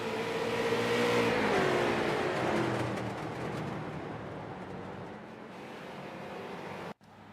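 Street stock race cars in an iRacing event at Southern National Speedway drone past, a loud engine tone that sweeps downward as the cars move away, then steadies into a fainter hum before a brief cutout near the end.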